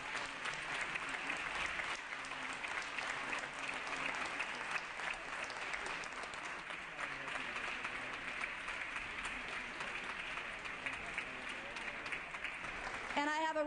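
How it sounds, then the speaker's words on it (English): Dense, steady applause fills a legislative assembly chamber as members clap together for a state championship team, sustained and fairly even throughout with no speech standing out. "give them your round of applause for winning the state championship"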